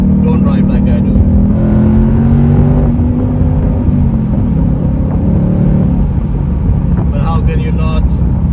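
A Ford Mustang GT California Special 60th Anniversary convertible accelerates hard, its loud V8 engine note rising in pitch as the gears climb, with a voice talking over it near the start and end.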